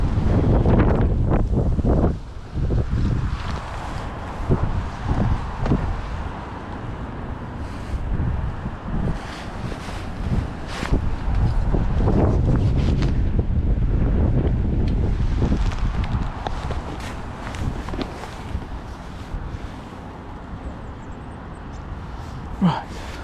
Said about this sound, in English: Too much wind today.